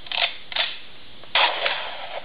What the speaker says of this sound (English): This is the shotgun.